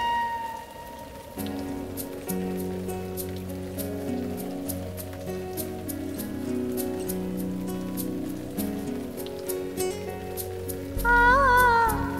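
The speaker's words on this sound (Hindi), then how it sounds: "पंखुड़ी, तुम्हें पता है ना हमें बारिश से एलर्जी है।" Steady rain falls and patters on a surface, the drops tapping sharp and close in a dense, irregular rhythm over a low sustained background tone for the whole stretch.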